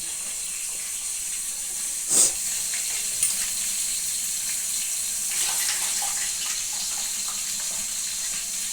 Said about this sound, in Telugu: చేతిలో పట్టేంత చింతపండు తీసుకుని కడిగి నానబెట్టుకుందాం